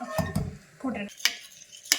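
Quick metallic clinks and scraping of a whisk against a bowl as hot milk is whisked into beaten eggs, a few short bursts with soft stirring between them.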